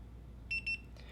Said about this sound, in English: You heard 2 beeps.